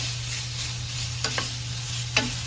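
Pork sautéing in its own rendered fat in a pan, a steady sizzle with a low hum beneath and two or three sharp scrapes of a spatula, close by.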